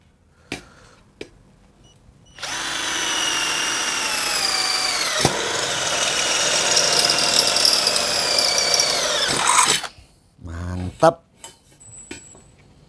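A 12-volt cordless drill whines at high speed for several seconds, drilling 1.8 mm hollow steel, its pitch sinking as the bit loads up in the metal, with clicks and clatter before and after.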